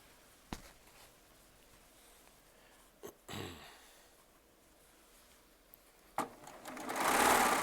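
Serger sewing machine stitching batik charm squares, quiet and close, with a few sharp clicks and short bursts of motor whir, building to a louder run at the end.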